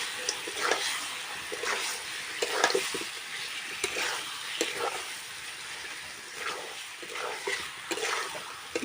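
Chicken frying with potatoes in a pan, a steady soft sizzle with scraping and stirring clatters at irregular moments, close and moderately quiet with no talk.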